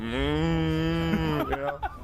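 A human voice imitates a cow's moo during an interview: one long, drawn-out lowing tone that slides and breaks up near the end, close and fairly loud.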